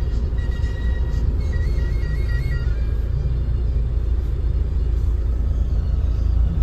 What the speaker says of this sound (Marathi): हे आले ट्रॅफिक.